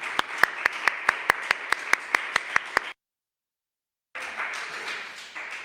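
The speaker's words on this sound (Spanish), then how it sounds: "Un aplauso para el Señor." A church congregation clapping in a quick, even rhythm, a dozen or so sharp claps in unison, then a short break of silence before looser applause and murmur resume.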